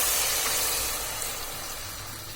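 Soaked turmeric, chili powder and salt hitting hot oil with fried onion, garlic and green chili, giving a steady close sizzle and hiss that eases slightly over a couple of seconds, with no talk.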